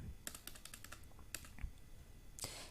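Quick keystrokes on a computer keyboard while entering order details in accounting software, a burst of taps ending in a firmer Enter press, close and fairly quiet with no talking.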